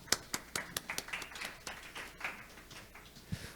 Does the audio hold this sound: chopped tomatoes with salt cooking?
no